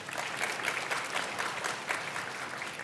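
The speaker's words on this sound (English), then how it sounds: "please clap if you've changed your mind to the other side" A debate audience claps steadily, a dense wash of many hands that holds at an even level throughout, with no voices on top.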